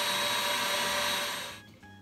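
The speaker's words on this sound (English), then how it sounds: "I put some egg white and some sugar, and I'm just gonna mix it until it can get really fluffy." A stand mixer whips egg whites and sugar for a Japanese cheesecake, its motor running at a steady loud whine up close before spinning down and stopping near the end.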